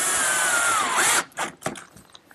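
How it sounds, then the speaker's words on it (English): A power drill whirs loudly for just over a second as it attaches a narrow plywood piece to an angled piece of a workshop jig, its pitch sagging under load before stopping, followed by a few short knocks and handling sounds. "Here I'm attaching a narrow piece of plywood to that angled piece."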